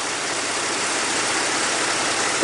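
A 2016 Ford F-150's 2.7-liter EcoBoost twin-turbo engine idles with a steady, loud, close whooshing hum and no voices over it.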